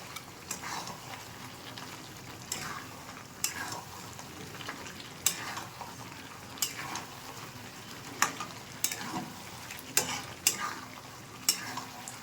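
Chicken pieces with cumin, coriander and red chili powder fry in a pressure cooker, with a soft continuous sizzle under regular spoon strikes and scrapes about once a second, close and moderately quiet.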